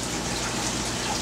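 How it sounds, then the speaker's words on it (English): Liquid primer pours steadily into an inexpensive cup during DIY pool skimmer construction, a continuous close, hissing splash with no pauses and no voices. "the easiest thing to do is just pour it in a cup"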